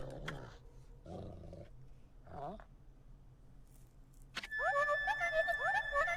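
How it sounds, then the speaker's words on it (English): A dog cries in the video game Okami with a few short whimpering, growly bursts separated by quiet gaps, followed by a louder passage of bright tonal game music. "Is that doggy crying somewhere, sis?"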